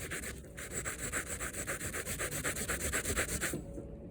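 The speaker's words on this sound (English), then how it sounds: "it's a lot easier to hit it with the wire wheel first. And then hit it with the Scotch Brite pad" A wire wheel and Scotch-Brite pad scrub varnish off a Catalina 27 sailboat's surface in steady, rapid back-and-forth strokes, a close, rhythmic abrasive rasping that runs evenly for a few seconds before stopping.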